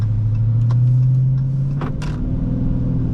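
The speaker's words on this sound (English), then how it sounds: "You can definitely hear this engine sing." A 2022 Dodge Charger Scat Pack with a 392 V8 drives under light load, giving a loud, steady low rumble with a humming tone and a few faint clicks and swells, with no one speaking.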